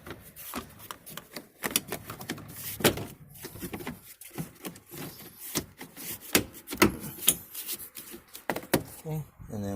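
A plastic trim cover is pushed back onto the taillight area of a G35, giving close, irregular clicks, knocks and rubbing scrapes, some sharp and some dull, spread across the whole stretch.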